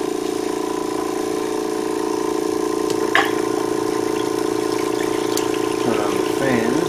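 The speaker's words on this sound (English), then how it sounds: "turn on the waterfall." A Kaizo waterfall spray booth's water pump runs as a steady, continuous hum with a constant tonal drone and trickling water, alongside a faint airbrush compressor, with brief speech near the end.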